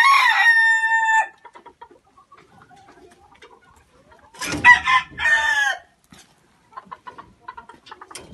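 Padovana ornamental chickens crow and cluck at close range: a drawn-out crow first, then scattered soft clucks, a louder burst of crowing calls midway and more faint clucking toward the end.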